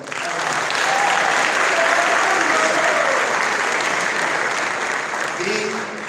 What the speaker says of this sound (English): Just give it a round of applause, man.